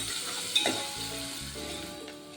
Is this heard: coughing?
no